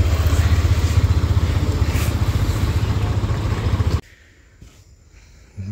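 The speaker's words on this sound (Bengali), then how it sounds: "ফেরিতে বাইকটা পার্কিং করতে যাচ্ছে।" A motorcycle engine runs loud and close with a steady rumble as the bike is ridden onto a ferry to park, then cuts off abruptly, leaving only faint background noise.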